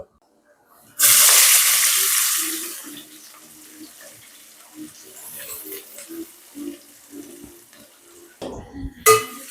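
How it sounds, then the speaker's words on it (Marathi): Onions drop into hot oil with curry leaves for a spicy chicken curry, setting off a loud, sudden hiss that fades into a steady sizzle with intermittent stirring scrapes and a clatter at the end. "मी यामध्ये आता कांदा टाकतो"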